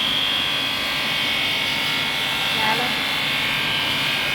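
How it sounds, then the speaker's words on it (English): Polishing wheels on an MLZ-9 glass edge polishing machine run at high speed, giving a steady, loud, buzzing whine that holds evenly throughout without pause. "That's the polishing wheels"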